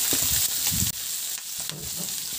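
Onion and tomato fry in a pan as the base of a mung bean stew with pork belly, a steady close sizzle with scraping stirs and soft clatter running throughout.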